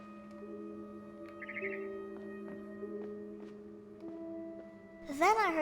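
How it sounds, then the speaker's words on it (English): A barn swallow chirps in the video game What Remains of Edith Finch, a short bright bird call over a quiet steady tonal background hum, followed by a louder rising sweep near the end. "Then I heard chirping outside my window. It was a barn swallow going back to her nest."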